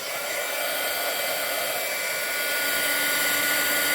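A heat tool blasts a mixed media craft page, a loud, steady, close-up hiss of blowing hot air that holds for the full stretch with no talking.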